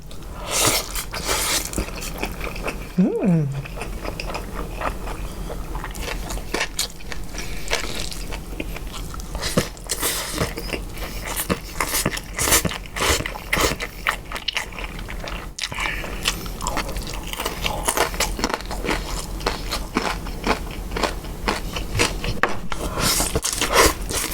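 Sausage is bitten and chewed during a meal of spicy Thai papaya salad with rice noodles and fermented fish sauce. Close, continuous wet crunching and chewing keep a steady rhythm, with a few sharper bites.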